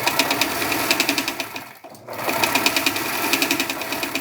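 Sewing machine stitching ties with fold over elastic, a close, loud rapid mechanical chatter that pauses briefly midway and then resumes at a steady pace, no talk.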